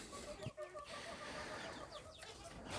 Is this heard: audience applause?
no